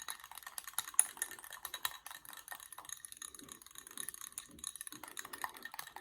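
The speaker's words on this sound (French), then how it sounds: "Et après, donc, je mélange." A rich face cream mixture is stirred by hand, giving faint, quick clicks and light scraping taps against its container, quiet and close, with no voices.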